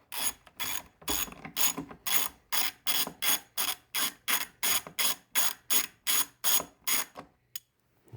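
A socket wrench ratchets on a 10 mm battery bolt in a 2021 Jeep JL. Quick bursts of clicking repeat about twice a second in a steady rhythm, close and fairly quiet, with no talk.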